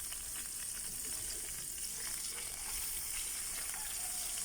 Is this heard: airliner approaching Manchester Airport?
no